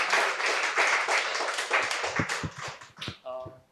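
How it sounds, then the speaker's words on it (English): Applause from an audience for a speaker at a talk on Goan houses: dense clapping for about three seconds, then thinning into scattered individual claps, with a voice briefly speaking near the end. "Can we have a round of applause for Meher?"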